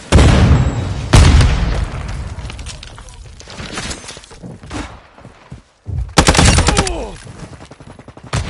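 Gunfire and explosions from the video game Modern Warfare 2: loud, close bursts of automatic fire and heavy booms, including a grenade blast, come in repeated waves with brief lulls, and faint voices are mixed in.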